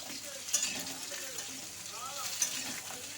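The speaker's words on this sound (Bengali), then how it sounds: "তো সমস্ত আলুগুলোকে দিয়ে নিলাম, দিয়ে কিন্তু একটু লাল করে ভেজে নিতে হবে।" Potato pieces fry with onion in oil, a soft, fairly quiet sizzle running steadily with a couple of light stirring knocks, and faint talk in the background.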